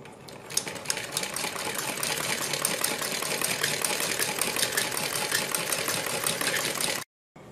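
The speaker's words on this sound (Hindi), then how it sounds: "यहाँ पर हम इसके सिलाई लगाएंगे" A sewing machine runs steadily while stitching a folded neck strip for a neckline design, with a fast, even mechanical rattle close by and a brief stop near the end.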